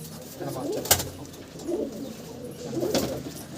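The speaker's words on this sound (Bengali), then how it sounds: "এইটা হচ্ছে সেই পায়রা" Laljiriya pigeons coo close by in soft, rolling bursts, with a sharp click partway through and quiet background noise.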